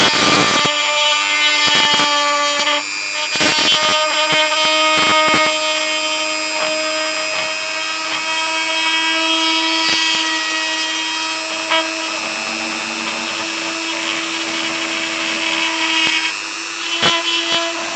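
Small power drill boring a hole into the middle of a Star Wars Legion AT-ST miniature, a loud continuous high whine with scraping bursts and brief speed changes throughout.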